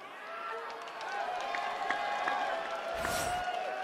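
A large crowd at the UFC 300 press conference cheers and roars, a dense continuous din of voices and some clapping that swells near the end, with someone speaking over it.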